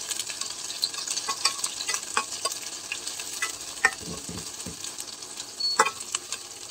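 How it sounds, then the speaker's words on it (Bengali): Four or five small onions and four or five green chillies fry in a pan for a fish curry, giving a soft steady sizzle broken by scattered clinks and scrapes of stirring, with no voices. "পেঁয়াজ আর মরিচগুলোকে ভালো মতো ভেজে নিচ্ছি"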